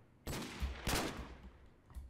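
Desert Eagle pistol shots in the Minecraft Fortcraft game: two sharp bursts a little over half a second apart, the second loudest, then a fainter pop near the end, all quiet and distant-sounding without talk.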